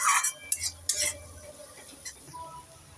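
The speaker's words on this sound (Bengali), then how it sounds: "একটু নেড়ে চেড়ে এবার সব উপকরণগুলোকে ভালোভাবে ভেজে নেব।" Garlic cloves and green chillies stirred in a pan, with a few sharp metallic scrapes and clinks of a spoon against the pan over a faint low sizzle, close and fairly quiet.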